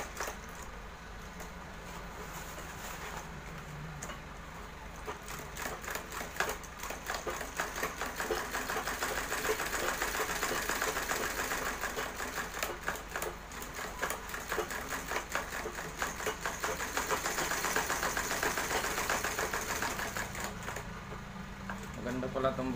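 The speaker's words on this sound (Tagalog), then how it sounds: "Pag natapos ko ng tahiin to guys lahat." A sewing machine stitches handmade brown sandals, running in a steady mechanical whir with rapid needle ticking that swells and eases over time, while a person talks over it.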